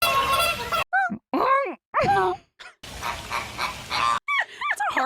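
People imitate a goose-like honk with their voices, giving a series of short, loud, wavering honking calls broken by brief pauses, mixed with laughter and talk.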